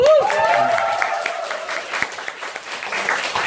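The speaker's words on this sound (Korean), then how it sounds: "박수" A seminar audience breaks into brief clapping, uneven and moderately close, starting under a fading voice and thinning out within a few seconds.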